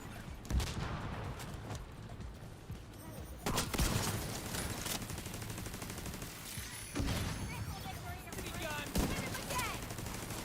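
Shooter-game gunfire from The Division 2 comes in several loud bursts and single cracks with rattling automatic fire between them, while a player talks over the action.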